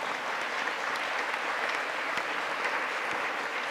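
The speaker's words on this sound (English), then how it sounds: "You're clapping for K nearest neighbor" Audience applause at a music conference keynote, a steady, fairly faint wash of clapping from a room of listeners, with no talking over it.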